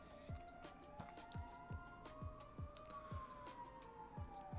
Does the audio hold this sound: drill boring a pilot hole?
no